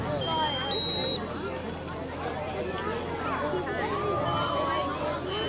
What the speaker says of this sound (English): It took 8 seconds for that smoke detector to go off.